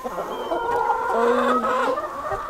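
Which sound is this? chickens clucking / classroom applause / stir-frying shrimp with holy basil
chickens clucking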